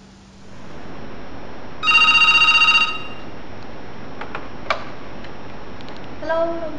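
Telephone ringing a room service line, one trilling electronic ring burst of about a second, followed by faint clicks and a short tone over a quiet room hiss.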